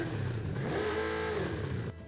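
A massive truck engine revving in the Forza Horizon 5 racing game, a steady throaty roar that climbs in pitch and then drops, cutting off sharply near the end.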